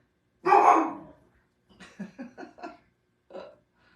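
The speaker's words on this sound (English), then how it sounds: "bark. He's the big protector dog." A big rescue dog gives one long, loud bark, then a quick run of four short woofs and a final single bark, all close by with silence between.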